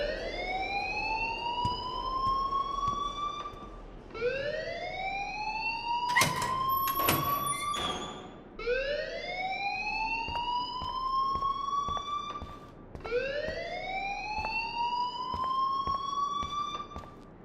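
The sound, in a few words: fire alarm ringing, from the video game Life Is Strange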